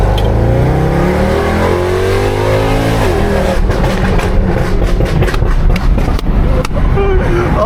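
A Mercedes C63 AMG V8 with long tube headers and a custom pop-and-bang exhaust revs loudly up close. A sustained rising engine note gives way to rapid crackling pops and bursts.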